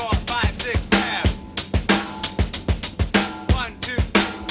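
Kit drumming in 7/8 time: punchy kick and snare strokes under a continuous cymbal wash, the seven-count pattern cycling steadily and loudly, played alone without speech.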